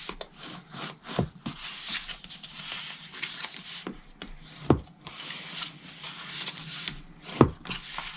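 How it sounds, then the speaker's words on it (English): Cardstock being folded and burnished by hand for a festive 3D gift box, heard as soft dry rubbing and scraping strokes with a few sharp creasing snaps, close up and without talk. "I'm going to just fold and burnish my cardstock"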